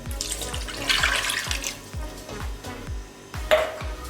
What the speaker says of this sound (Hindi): एक गिलास पानी डालेंगे